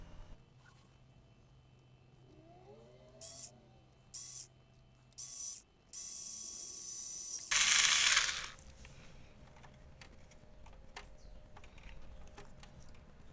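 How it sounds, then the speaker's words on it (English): A tool makes a screw hole in a board: several short, close bursts of harsh whirring, then a longer sustained run and a final louder burst, separated by quiet pauses. "Now I'm going to try to see if I can make a hole over here to accommodate a screw"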